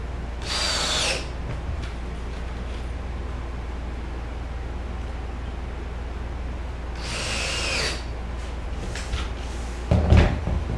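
A drill drives screws into wood on a pop-up camper being converted to a hard-sided teardrop, two short whirring bursts separated by quiet, with a knock at the end.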